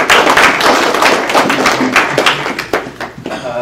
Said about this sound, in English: Thank you for the polite applause